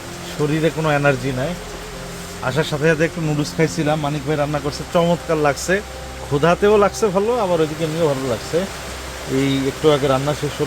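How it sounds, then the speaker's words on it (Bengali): Waterfall rushing nearby, like steady rain, as a constant broadband wash beneath continuous close talking throughout. "কিন্তু এটা আসলে ঝর্ণার সাউন্ড।"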